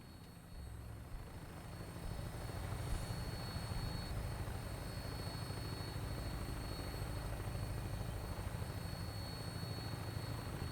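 An aircraft flies in on final approach to land in the Fallout 4 game, a steady loud engine drone and rumble that holds unbroken and with no talk.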